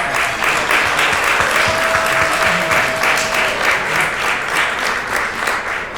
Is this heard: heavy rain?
no